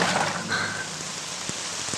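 Steady rain pours down, a dense continuous hiss with a few closer drops tapping a surface, with no talking over it.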